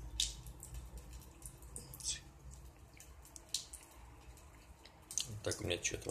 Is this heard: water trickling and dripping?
yes